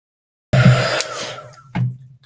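A hair dryer blows steady and close on mixed media paint, starting abruptly with a whooshing roar that fades slightly before a second surge of airflow near the end.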